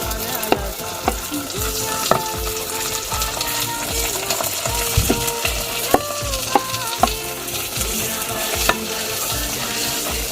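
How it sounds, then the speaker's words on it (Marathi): Curry leaves, green chili, ginger-garlic paste, tomato and onion frying together in a pan, a continuous loud sizzle with repeated clinks and scrapes of stirring, no talk. "कढीपत्ता, मिरची, आलं लसूण पेस्ट, टोमॅटो आणि कांदा, हे आपण सर्व एकजीव फ्राय होऊ देणार आहोत"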